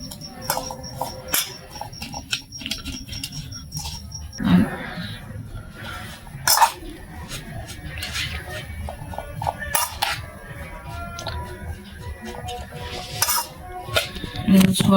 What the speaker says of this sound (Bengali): এখন আমি এটা চামচ দিয়ে ভালো করে ঘেঁটে নিই একটু।